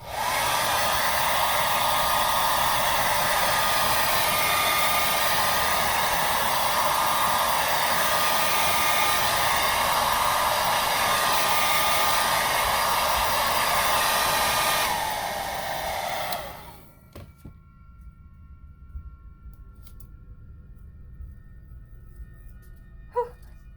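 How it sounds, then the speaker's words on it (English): A hairdryer blows steadily and loudly at close range on a wig for about fifteen seconds, then cuts off, leaving faint room noise and a few small clicks. "Now I'm going to let this dry quickly using a hairdryer."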